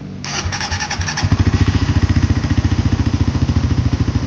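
A Suzuki GSX-R150 motorcycle starts with its ignition: a brief whirring crank, then the small engine catches and settles into a loud, close, evenly pulsing idle.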